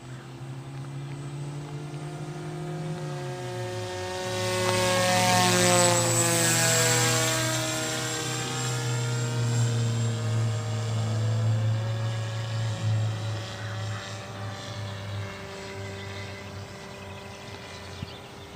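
A Peace Drone model aircraft flies at half throttle, its propeller motor droning steadily with pitch shifting as it passes and swells closer before easing away, with no talking over it.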